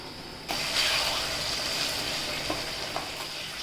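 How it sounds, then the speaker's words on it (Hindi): Curry leaves drop into hot ghee in a chicken ghee roast and set off a sudden loud, steady sizzle and hiss that carries on with light stirring clicks, close and without talk. "और लास्ट में हम डालेंगे कड़ी पत्ता।"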